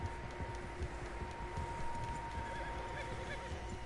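Several horses neigh and whinny in Red Dead Redemption, with clip-clop hoofbeats running steadily underneath and a thin tonal hum across the scene.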